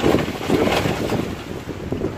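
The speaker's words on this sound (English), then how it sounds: "if it's a bit windy, I don't know what the sound's going to sound like" Strong gusting wind in a garden during stormy weather, buffeting the microphone with a loud, rough rumble that swells and eases without a break.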